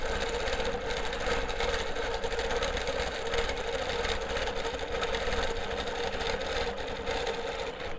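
A longarm quilting machine running steadily at about ten stitches per inch, doing ruler work on a quilt, with a continuous close, even mechanical whir that holds at the same level throughout with no pauses.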